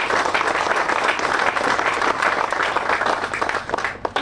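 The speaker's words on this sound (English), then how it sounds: "How about a round of applause?" Audience applause at a university indoor practice facility groundbreaking ceremony, a steady, dense wash of clapping from a crowd that holds evenly for about four seconds before thinning near the end.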